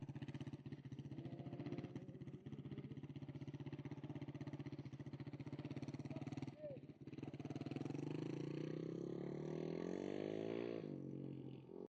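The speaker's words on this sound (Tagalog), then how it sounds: "lakas ng kanilang mga makina" Motocross motorcycle engines race at a track in the UK, a loud continuous buzzing roar with revving rising and falling pitch, close by and sustained throughout, with a voice faintly under it.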